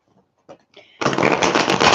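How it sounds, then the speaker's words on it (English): A deck of tarot cards is shuffled, a dense, continuous riffling flutter that starts abruptly after a few soft handling taps and stays close and steady. "Let me shuffle these cards 1 second."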